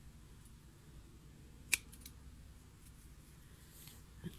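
A single sharp snip of scissors cutting yarn off a handmade pompom, one faint close click standing out from quiet room noise, with a softer tick near the end.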